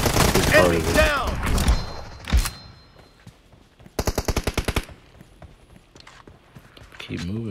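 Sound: gunfire in the video game PUBG Mobile

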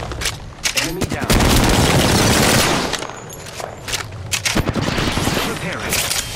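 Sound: gunfire in the Apex Legends video game

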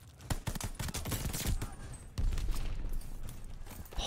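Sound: tank firing in video game Call of Duty Vanguard

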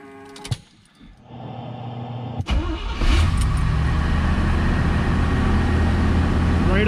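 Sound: 1971 Corvette LT-1 engine starting, high idle

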